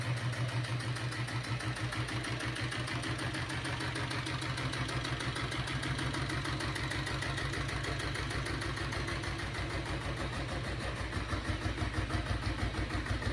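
A diesel Royal Enfield Bullet motorcycle idles close by with a steady, even thumping, loud and unbroken throughout, with no talking.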